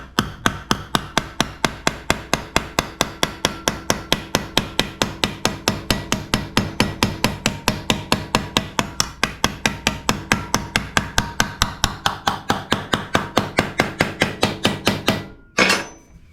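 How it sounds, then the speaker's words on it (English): Rapid, steady hammer blows on a metal panel during rust repair, dozens of sharp ringing strikes in a regular rhythm, close and loud, ending abruptly with a brief scrape. "now we hammered on it"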